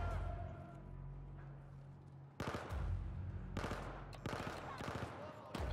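Bursts of gunfire from the Battlefield 4 campaign, several loud rapid volleys cracking out over a low rumbling game soundscape, with a quieter stretch before the shooting starts.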